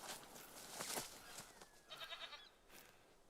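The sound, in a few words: feral goat mating call in The Hunter: Call of the Wild video game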